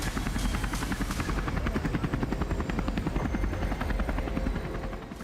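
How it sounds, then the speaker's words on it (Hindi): A helicopter makes a dangerous landing at Kedarnath Dham, its rotor chopping in a loud, steady rapid beat that holds close and continuous throughout, with a thin high engine whine and no talk. "अलग अलग एंगल के साथ हेलीकॉप्टर की ये खतरनाक लैंडिंग देखकर लोगों के रोंगटे खड़े हो रहे हैं।"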